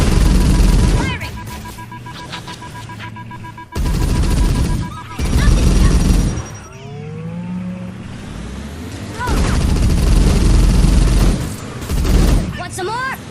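Video game gunfire in Halo: Combat Evolved Anniversary, loud bursts of shots alternating with vehicle noise and effects over about thirteen seconds, with voices calling out in between.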